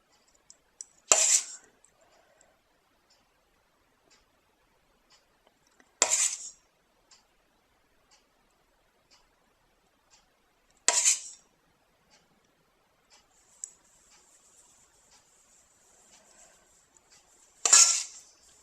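A metal spoon clinks against a bowl while coating mixture is scooped over cake pops, four short bright taps spaced several seconds apart in near silence.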